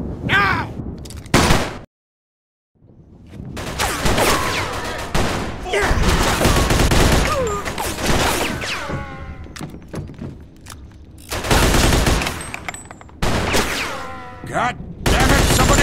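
Heavy gunfire in Mafia 2, bursts of automatic and single shots crackling loudly in clusters with short gaps, a brief silent pause near the start, shouting voices mixed among the shots.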